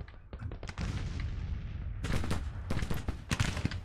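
Cannon salvos roar across a Civil War battlefield in the strategy game Grand Tactician, a quick string of booming shots followed by more ragged volleys, loud and close with no talk.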